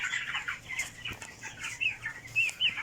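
Broiler chickens on a farm cluck and chirp in scattered bursts, fairly close and moderately loud, with no talking.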